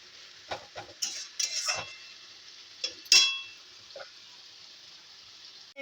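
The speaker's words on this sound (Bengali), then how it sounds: "ভালো করে কষতে হবে যাতে টমেটোর কাঁচা গন্ধটা চলে যায়" Tomato masala sautéed in a pan, with quiet scraping and stirring clinks of a utensil against the pan, a few sharper taps and a soft sizzle underneath.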